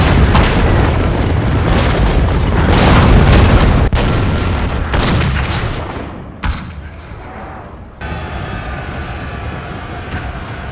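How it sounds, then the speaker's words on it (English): Booming artillery fire from a Napoleonic-era Total War battle game, representing French guns at the 1813 Battle of Leipzig, rumbles loud and dense for several seconds, then thins into sharper scattered blasts and a softer background din. "French artillery fire made it impossible for the Russians to advance any further"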